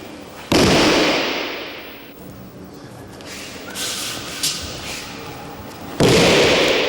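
During judo practice on a mat, a partner is thrown and lands with a loud, sharp slap. A quieter stretch follows, then a second heavy impact near the end.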